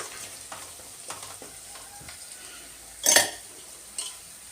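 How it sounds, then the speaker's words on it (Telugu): Ginger frying in oil in a pan, a soft continuous sizzle broken by light clinks of a utensil against the pan and one louder scrape, close and fairly quiet. "అల్లం వేసుకున్నాం కదా పచ్చివాసన పోయేంతసేపు కూడా కొంచెం అంతా ఆయిల్లో వేగనివ్వాలా"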